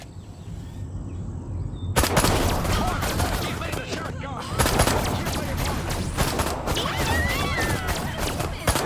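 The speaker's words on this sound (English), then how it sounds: "So I'm unlocking your disintegrator ray. Try it out on the fuzz." Disintegrator ray fire from the alien weapon in the Destroy All Humans remake, a continuous crackling, buzzing energy stream that runs loud and dense for several seconds with a brief break, mixed with game sound effects.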